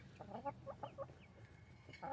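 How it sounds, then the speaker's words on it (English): A small rooster clucking in short, quiet bursts, several soft clucks in quick succession with brief pauses, close by in a farmyard flock. "This little rooster right here is mean"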